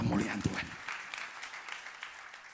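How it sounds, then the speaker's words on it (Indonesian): A church congregation applauds for a few seconds, with the clapping fading into scattered claps and room murmur after a speaker's voice at the start. "Tepukan yang meriah untuk kemuliaan Tuhan."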